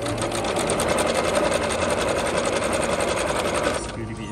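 A Jaguar CD-2204W sewing machine stitches at high speed, giving a loud, close, steady rapid mechanical chatter that runs unbroken for about four seconds before easing off. Some voice may sit faintly underneath.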